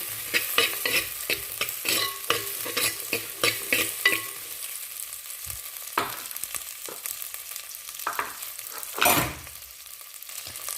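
Onion and garlic sauté with a light sizzle in a clay mud pot, set for fish curry, while a spoon stirs and scrapes in quick repeated strokes, close and fairly quiet, with no talking.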